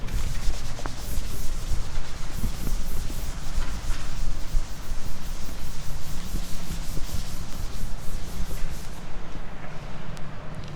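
An eraser rubs steadily across a classroom board for about ten seconds, a continuous close scratchy swishing with quick back-and-forth strokes and no talking.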